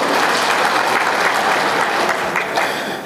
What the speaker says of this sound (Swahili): Hebu tuwapigie makofi viongozi jamani